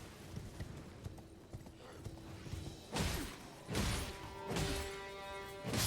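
Horse hooves clip-clop steadily in the Elden Ring video game, a few heavy thuds over a continuous windy in-game ambience, fairly loud and with no voices.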